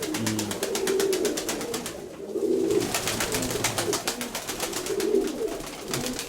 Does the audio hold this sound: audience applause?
no